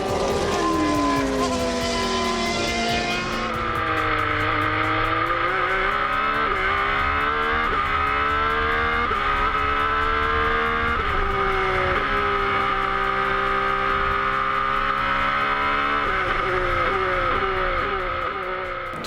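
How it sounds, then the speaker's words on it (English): Formula One race cars scream past at the Adelaide Motorsport Festival, one loud engine revving up through gears with sharp shifts and a sustained high wail, close and continuous. "the Formula Ones."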